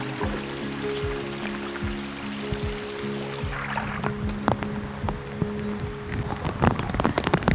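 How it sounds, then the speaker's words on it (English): Rain falls during a trip on the Ha Giang Loop in Vietnam, a steady close patter of scattered drops that grows busier and sharper toward the end, with no voices. "started to rain again."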